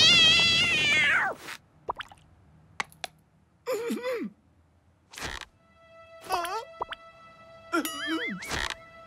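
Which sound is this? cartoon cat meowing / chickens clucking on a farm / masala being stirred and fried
cartoon cat meowing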